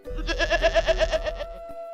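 Goats bleat close by in a quick, pulsing, shaky run of cries over a low rumble, ending in a steady tone with no voices.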